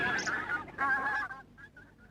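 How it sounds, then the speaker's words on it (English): Geese honk in a park, with a loud burst of close honking followed by a few softer, shorter calls trailing off; no talking. "But the ducks and geese ate all their food and chased them away."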